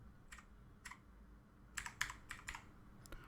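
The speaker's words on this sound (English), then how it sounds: "go to this search box and type control panel" Computer keyboard typing on a Windows 11 PC: a few scattered keystrokes at first, then a quicker burst of close, crisp clicks, heard alone over a quiet room.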